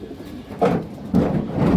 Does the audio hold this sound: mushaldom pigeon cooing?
yes